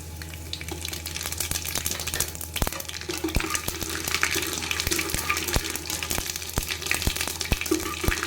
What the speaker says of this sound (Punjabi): ਕੜੀ ਪੱਤਾ ਔਰ ਜੀਰੇ ਦਾ ਤੜਕਾ